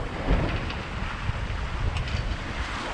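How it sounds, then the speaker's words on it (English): Steady wind roars across a small Contessa 26 sailboat at sea in roughly 10 to 12 knot breeze, with buffeting gusts and wind noise on the microphone over a constant wash of water, no voices. "wind is probably 10 to 12 knots right now"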